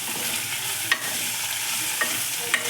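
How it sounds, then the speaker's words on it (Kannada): Mixed vegetables for veg kurma fry and sizzle in a pan, giving a steady close hiss with a few sharp stirring clicks and scrapes. No one speaks. "ಎಲ್ಲ ತರಕಾರಿ ಹಾಕಿಬಿಟ್ಟು ಸ್ವಲ್ಪ ಫ್ರೈ ಮಾಡ್ಕೋಬೇಕು."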